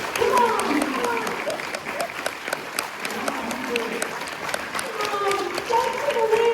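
A theater audience claps and cheers during a live comedic stage show, a broad, steady wash of applause with scattered shouts and voices running throughout.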